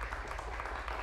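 A brief, steady wash of audience applause greets the first contestant at a lively Spanish-language contest event, filling the whole moment without any talk over it.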